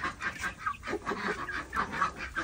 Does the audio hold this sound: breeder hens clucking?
yes